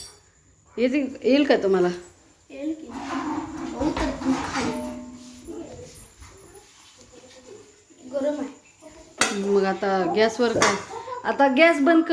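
Steamed idli being taken out of a cooking pot, with scattered metallic clinks and clatter of utensils and dishes heard close up between stretches of conversation.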